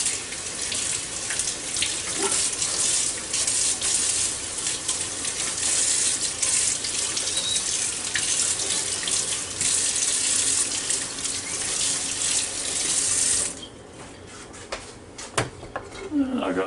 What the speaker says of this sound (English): I've got them scraped down good, and we'll wash them.